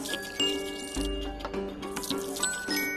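Water trickles and splashes into a bowl while sourdough pita dough is being made, with uneven dripping and pouring under light background clatter.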